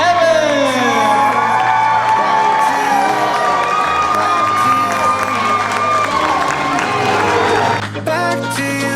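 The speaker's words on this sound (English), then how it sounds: "Round of applause." Wedding reception crowd cheering, whooping and applauding for newlyweds as they are introduced, a loud sustained roar of voices and clapping with music audible in the mix.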